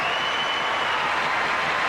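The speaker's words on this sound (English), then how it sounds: "Crowd wanting more." Australian Open tennis crowd at Agassi versus Safin in 2004, applauding in a steady, continuous wash of clapping from a large stadium audience, with no voices on top.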